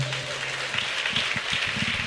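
A church congregation claps together during an Apostle's sermon on prayer, a dense, steady wash of applause that stays fairly even throughout, with a low hum underneath at the start.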